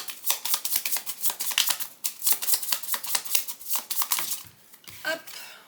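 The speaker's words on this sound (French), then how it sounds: "Alors, on va tirer 3 cartes." Playing cards are snapped and flicked off a deck in a quick run of crisp, papery clicks, close and fairly loud, with no talking over them.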